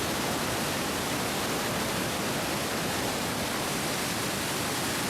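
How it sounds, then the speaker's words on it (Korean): Huge volumes of water pouring over Iguazu Falls in Argentina make a constant broadband roar, even and unbroken, close and fairly loud, with no voices. "끊임없이 쏟아져 내리는 엄청난 양의 물이 만들어내는 천국으로 이르는 길."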